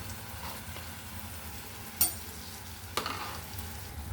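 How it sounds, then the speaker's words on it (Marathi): A thick ground paste of onion, coconut, turmeric and garlic is stirred into a simmering drumstick-pod curry, with a low steady cooking hiss and two sharp spoon scrapes against the pan. "जो मसाला आपण कांदा खोबरा आणि हळद लसूण यांचं वाटण करून ठेवलं होतं तो याच्यामध्ये मिक्स करून घ्यायचा आता"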